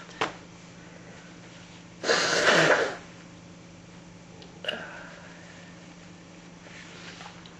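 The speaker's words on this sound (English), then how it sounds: "I'm just going to have a sniffle before I start." A single sharp indoor sniffle, short and close, in an otherwise quiet room with a low hum, followed by a couple of faint clicks.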